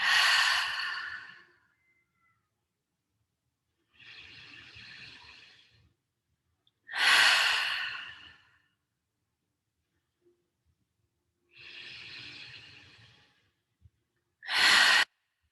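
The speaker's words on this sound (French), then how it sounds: "on va prendre 3 profondes respirations. Grande inspire par le nez. Et je laisse aller." Slow deep breathing during a yoga session: three long inhalations drawn in through the nose, each followed by a softer, sighing exhale through the mouth, alternating steadily and heard close up in a quiet room with no talking.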